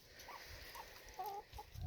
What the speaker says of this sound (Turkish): Evet tavuklar kavga ediyor arkadaşlar.